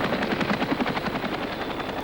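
A Cobra attack helicopter flies overhead with a loud, rapid rotor chop, its pulsing beats coming in quick regular succession over a steady turbine whine, alone and without talk.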